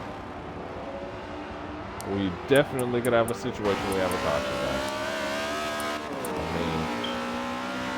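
Race cars roar and rev through a Wreckfest esports league race at Monza, engine tones rising and falling as several cars pass close, with a few sharp bursts, all under continuous excited commentary.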